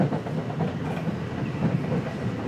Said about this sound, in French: une centaine de trains filent le long de la rivière Hudson vers Manhattan